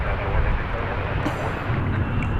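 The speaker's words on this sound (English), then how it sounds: "There went American Flight 1847 off to Denver, an Airbus A321." An American Airlines Airbus A321 roars down the runway on takeoff at Dallas/Fort Worth airport, a loud, steady, broadband engine rumble heard from a distance, with no break through the whole stretch.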